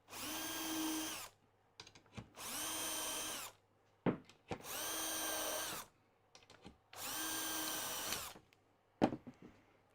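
Four bursts of a power drill boring a hole with a self-centering bit while fitting hinges, each run steady and loud for about a second and a half, separated by short pauses with small clicks and knocks.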